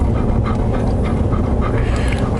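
A dog pants rapidly and steadily close by during a walk among giant redwood trees in the Avenue of Giants, a continuous breathy huffing with no talk over it.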